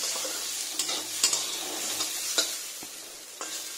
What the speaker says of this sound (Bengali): ওই জন্য একটুখানি আলু ভেজে দিলাম